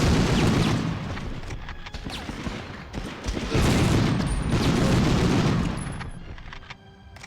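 Gunfire in the PS1 game Medal of Honor: loud, dense bursts of rapid automatic fire with booming reports, sustained in two heavy waves with a brief lull between and tapering at the end.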